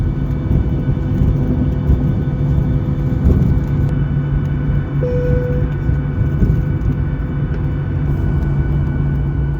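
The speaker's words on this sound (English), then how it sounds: "It's now time for takeoff on runway 27." A Virgin Australia airliner on the takeoff roll from runway 27, heard from inside the cabin as a steady, loud broadband engine roar and rumble with a faint tonal whine, continuous throughout with no talk.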